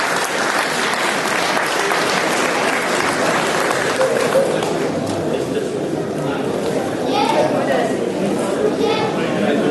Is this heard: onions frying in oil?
no